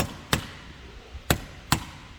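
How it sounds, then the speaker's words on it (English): A hammer knocks on a large flathead screwdriver during the disassembly of a slim C-shape unit. Three sharp, close metallic taps are spaced irregularly over a quiet background. "Just put it here and then use the hammer,"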